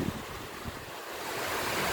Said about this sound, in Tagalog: Yan, buhos na naman ang ulan.